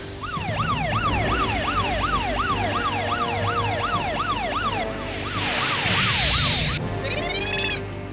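A wailing warning siren in the anime The King of Braves GaoGaiGar rises and falls in quick repeated sweeps, loud and steady, then gives way to a burst of electronic hiss and chirps.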